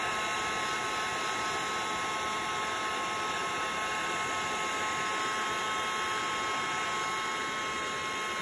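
An embossing heat gun blows steadily throughout, a constant close airy roar with a fixed whine, used while working texture and crackle paste in mixed media craft.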